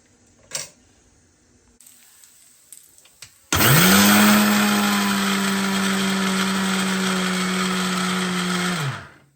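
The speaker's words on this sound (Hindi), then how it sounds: "ये देखिए तिल बहुत अच्छे से पीस चुके हैं" An electric mixer grinder grinding sesame seeds starts abruptly after a few faint clicks and handling sounds, then whirs loudly and steadily for about six seconds before shutting off.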